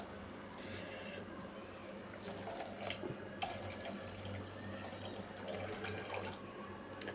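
Water pours steadily into a thin dry-shrimp curry, a continuous close splashing and trickling that runs without a break.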